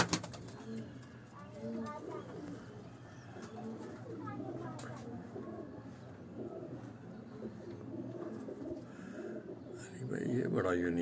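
Migratory pigeons at a fancier's home in Dharampura, Lahore, coo in soft, repeated throaty calls close by while someone talks over them.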